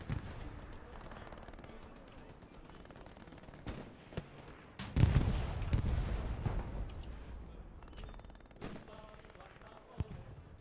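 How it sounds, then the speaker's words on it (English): Distant gunfire in the WWII shooter Hell Let Loose: scattered cracks and a brief rattling burst of shots, muffled and far off over steady battlefield ambience. "There's sound, shots coming from across the way."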